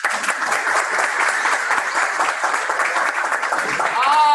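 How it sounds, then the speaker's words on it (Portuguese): Audience applause during a church gathering: a continuous wash of many hands clapping at moderate loudness, with voices mixed in and a brief rising whistle near the end. "Parabéns, palmas pro Vádia."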